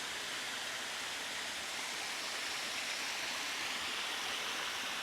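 A hidden waterfall near Puerto Vallarta roars in a steady, dense rush of falling water that stays close and unbroken throughout, with no voices over it.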